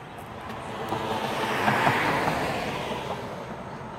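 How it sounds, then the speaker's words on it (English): Traffic on major highway 52 rushes past as a broad, steady roar, with one passing vehicle swelling louder midway and then fading, no voices over it. "I'm sorry about the noise out here, but we are located right on a major highway 52"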